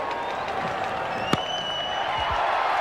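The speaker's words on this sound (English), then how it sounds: "there's a big crowd that stayed here at the SCG." A big cricket crowd at the SCG, during an Australia versus England match, applauds in a steady distant wash of clapping, with a single sharp crack partway through.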